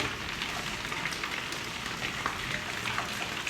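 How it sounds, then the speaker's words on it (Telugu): Heavy rain with small hailstones pelting down, a dense, steady roar of drops and patter, loud and close, with no voices. "వర్షం అయితే ఫుల్ దంచి కొడతా ఉంది"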